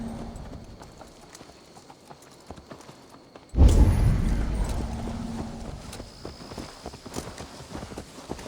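Horse hooves clip-clop in the Assassin's Creed Valhalla video game, with faint game ambience at first, then a sudden louder burst of hoofbeats and movement that stays dense and close for the rest of the stretch.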